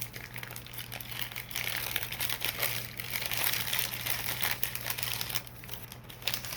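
Paper packing inside a Maniology nail kit box crinkles and rustles continuously at close range during unboxing. A steady low hum sits underneath, and the crinkling swells and fades in bursts.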